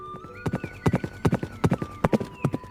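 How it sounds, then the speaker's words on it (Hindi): Horse hooves clip-clopping at a brisk, steady gait, sharp close hoofbeats in quick groups, with a faint high tone lingering behind them. "इसी समय घोड़े की टापों के शब्द ने उसकी एकाग्रता को भंग किया।"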